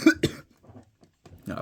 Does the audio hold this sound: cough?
yes